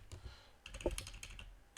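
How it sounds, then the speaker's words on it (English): Computer keyboard keys tapped quietly while using a Ctrl+Page Up shortcut in CorelDRAW, a few soft clicks in a short burst close to the microphone. "You can use control page up to bring it up."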